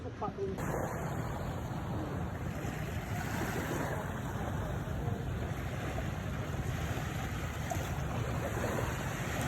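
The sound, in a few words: waves at the seaside during a fishing tournament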